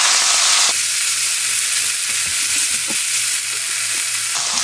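Tuna fried rice with gochujang being stir-fried in a pan, giving a loud, close sizzle with bright hiss and scattered scraping, stirring taps through the middle section, while the sizzle swells at the start and end.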